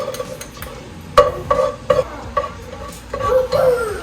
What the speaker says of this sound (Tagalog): saute the garlic and the white onions